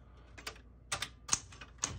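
Close, dry mechanical clacks from the key-release button on a 1973 Smith-Corona Galaxie Twelve portable typewriter pushing locked keys back down, in three or four quick groups with no talking.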